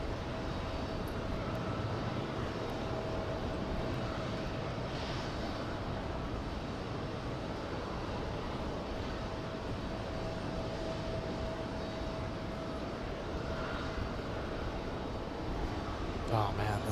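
An Etihad airliner flies past at JFK, its engines a steady, broad roar that holds for the whole stretch at moderate distance, with a faint tonal whine running through it and voices talking intermittently.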